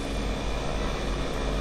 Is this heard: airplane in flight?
yes